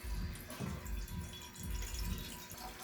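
Water runs from a tap into a cooking pot in a home kitchen, a faint, steady splashing and trickling that goes on uninterrupted.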